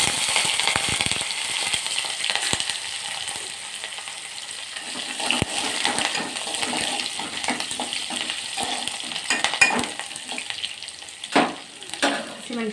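Curry leaves and green chilies fry in hot oil, a dense, continuous crackling sizzle up close with scattered pops and a few stirring sounds near the end.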